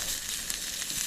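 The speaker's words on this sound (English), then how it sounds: "Cooking my steak here" Steak sizzles over an early-spring campfire, a steady loud hiss and crackle of fat frying without pause, close up and alone.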